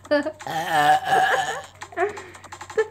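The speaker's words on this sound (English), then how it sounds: "I'm trying to burp, I'm sorry." A person burps with a strained, voiced croak, the long belch dragging on before trailing into laughter and giggling, followed by a few short vocal bursts, all close and loud.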